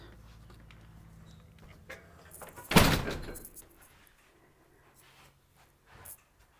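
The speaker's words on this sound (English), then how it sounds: "I'll see if I can get the door open with one hand." A door opened one-handed at a home kitchen gives a single loud thunk and rattle near the middle, close by, set against quiet room tone.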